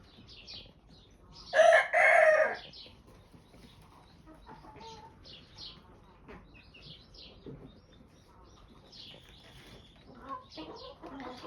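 Home-raised hens, including broody ones, make up the scene: one loud crowing burst rises early, then soft, scattered clucks and fowl calls continue at low level.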